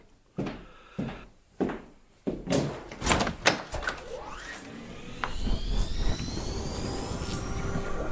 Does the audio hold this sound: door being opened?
yes